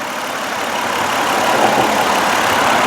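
A 2005 Mercury Montego Premier AWD with a 3-liter V6 idles steadily, a loud even broadband rumble heard up close with no talk for about three seconds.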